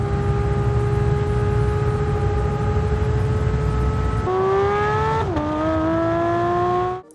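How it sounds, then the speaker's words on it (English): Porsche 911 GT3 (992) engine and exhaust, a loud sustained high-revving howl that climbs, drops sharply on a gear change, then rises again before cutting off. "Remarkably, the GT3 sounds as good as the old model."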